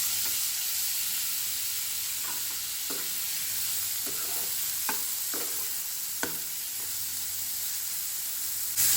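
Finely chopped onions frying in melted butter and oil, a steady, quiet sizzle and hiss punctuated by occasional brief scrapes and taps of stirring, no talking.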